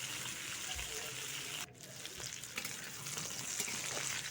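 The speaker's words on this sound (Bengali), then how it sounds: "এইভাবে নাড়াচাড়া করতে হবে আর ভেজে নিতে হবে।" Cauliflower, potato and beans are fried and stirred in a pan, giving a steady, fairly quiet sizzle with the scrape of turning vegetables, briefly interrupted partway through.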